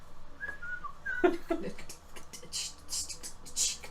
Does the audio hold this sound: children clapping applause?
no